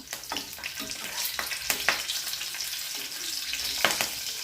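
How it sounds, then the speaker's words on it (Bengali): Black cumin seeds and green chilies tempering in hot oil give a bright, crackling sizzle with sharp pops and spatters scattered across it, close and fairly loud, no voices. "কালো জিরে আর কাঁচা লঙ্কা ফোড়ন দিয়ে দিলাম"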